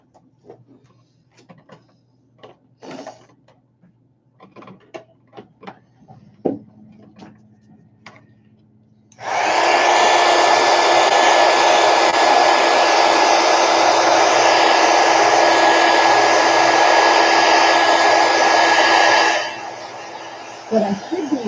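After some light tapping and faint handling sounds, a hair dryer switches on and blows steadily for about ten seconds to dry a watercolor painting, a loud, close whooshing drone that cuts off abruptly.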